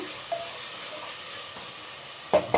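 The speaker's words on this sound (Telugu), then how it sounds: "ఒక రెండు మీడియం సైజు టమాటాలను కూడా వేసుకుంటాను ఇవి కూడా మంచిగా మగ్గించుకోవాలండి మూత పెట్టి మగ్గించుకుందాం" Chopped medium tomatoes soften in a covered pan of bottle gourd curry, giving off a soft, even sizzle and hiss, with two brief clinks near the end.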